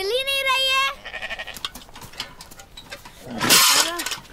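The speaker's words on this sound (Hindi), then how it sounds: "ये भेड़े उठ नहीं रही है, और वो बच्चा देने वाली भेड़ हिल ही नहीं रही है।" Sheep bleat on a farm, including a ewe about to give birth that will not stand; a loud wavering bleat opens, then fainter animal noise and a strong burst near the end, with voices talking around it.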